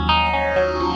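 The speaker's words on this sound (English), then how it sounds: "with a chorus on it, some phaser and reverb is going to give you the effect you want" A guitar played through a Rocktron Utopia G300 effects unit set with chorus, phaser and reverb, giving a shimmering, sustained processed tone that holds steady at close range without any talk.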